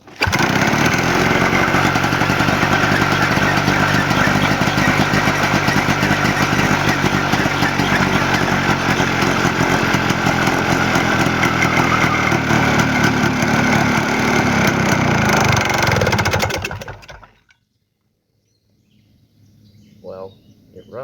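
A Ski-Doo 335 snowmobile engine, freshly rebuilt carburetor with a pod filter, runs loud and buzzing close by for a long stretch, then cuts out abruptly, leaving near silence with faint background sounds.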